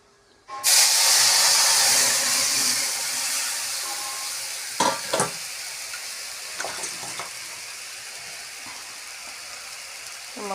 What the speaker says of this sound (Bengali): এবার আমি মশলাটা তেলের মধ্যে ছেড়ে দেব, ভালো করে গুলিয়ে তেলের মধ্যে ছেড়ে দেব।